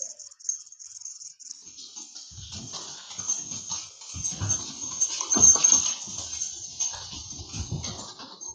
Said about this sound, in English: Uh-oh, dogs.